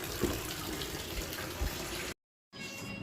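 Running tap water splashes steadily while clothes are washed by hand, a continuous close wash of flowing water that cuts out briefly and then resumes.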